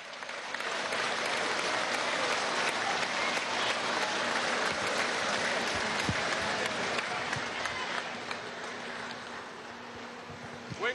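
Crowd at a political rally in Bolívar applauding a guest called to the stage, sustained broad clapping with a faint steady hum beneath, easing slightly near the end.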